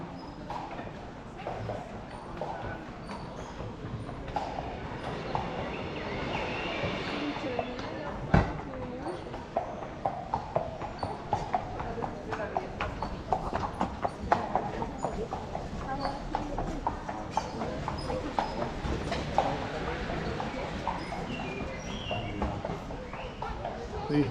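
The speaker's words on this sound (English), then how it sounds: "Careful, don't get run over by a horse and carriage." Hooves clip-clop on pavement in an irregular trotting rhythm as a horse and carriage passes in Palma de Mallorca, amid street ambience, birdsong and a person speaking.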